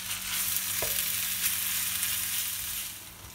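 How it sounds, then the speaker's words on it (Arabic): Food for an eggplant gratin frying in a pan, a steady close sizzle with a brief clatter partway through, no voices. "هلا نخلوها تتقلى"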